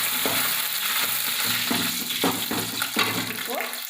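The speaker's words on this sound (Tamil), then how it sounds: "கடுகு பொரிஞ்சிச்சு, நம்ம அது கூட வரமிளகாய் சேர்த்துக்கலாம்." Mustard seeds, dried red chilli and asafoetida sizzle and crackle steadily in hot oil throughout, with occasional stirring sounds and no talking.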